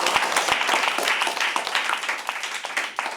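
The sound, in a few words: round of applause at school debate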